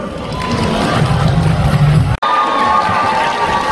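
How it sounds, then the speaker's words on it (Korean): An audience at the Universal Superstar Awards ceremony in 2024 applauds and cheers, a steady roar of clapping and crowd noise filling the hall, briefly cut off for an instant partway through. "남은 수상자들에게도 여러분들 아낌없는 박수를 부탁드리도록 하겠습니다"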